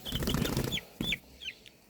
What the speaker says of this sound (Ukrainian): От бачите, купа курчат, скільки там їх 50 чи 60